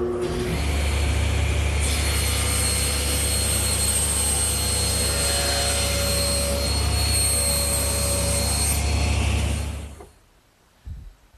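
A table saw rips a wood panel for a Shaker box against the rip fence, a loud steady whine that rises as the blade bites, then spins down abruptly near the end.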